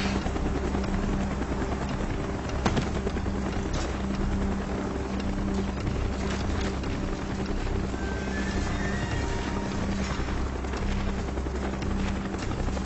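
A military helicopter in the video game Call of Duty: Black Ops approaches with a loud, continuous rotor thrum and engine roar that holds steady throughout, with faint clatter mixed in.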